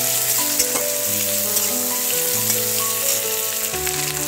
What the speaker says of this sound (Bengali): পেঁয়াজটাও ভাজা ভাজা করে নেব।